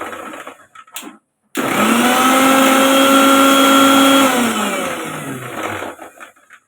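A kitchen mixer grinder whirs loudly for several seconds while grinding chili, garlic and ginger, with its pitch holding steady before winding down; brief handling knocks come before it starts.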